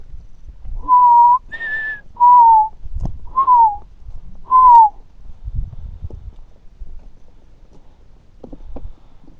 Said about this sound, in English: That's not a chickadee, that's a mourning dove.